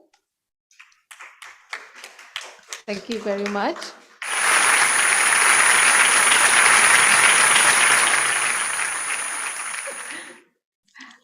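Seminar audience applauds after a talk at an international joint seminar: someone speaks briefly, then loud, dense clapping swells for about six seconds under a steady high-pitched whine before fading out.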